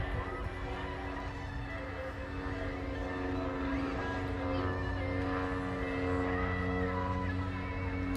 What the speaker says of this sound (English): So the C-17 just did a flyby over Wrigley Field